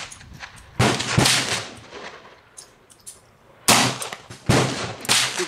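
A .38 Colt New Police revolver firing light Red Dot handloads gives sharp, loud reports, two close together early and two more later, each with a short ringing decay, under quiet outdoor background noise.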